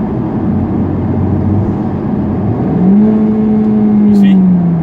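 Close, loud in-cabin engine sound of a manual Honda Civic Type R blipping its revs to match a downshift into second gear, a steady drone rising in pitch partway through.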